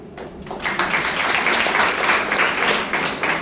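Steady audience applause at a comedy poetry recital, a dense wash of clapping that swells after a brief quiet start and holds loud and even throughout, with no voices over it.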